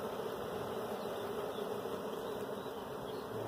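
Honey bees buzz inside an open hive, a faint, continuous droning hum with no voices.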